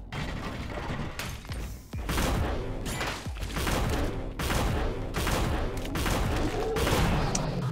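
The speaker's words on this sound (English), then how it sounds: "Eat burst shotgun." Burst shotgun blasts from the game Orbital Bullet come as dense, overlapping booms in rapid bursts, loud and continuous with clanking mechanical clatter between them.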